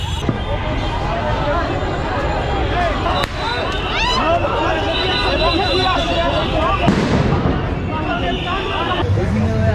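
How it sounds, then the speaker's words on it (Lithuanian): Distant gunshots or bangs during street protests in Dhaka: a few sharp, isolated reports cutting through a constant wash of street noise and crowd babble. "Panašu, kad tolumoje girdžiu kažkokius šūvius ir susirėmimus."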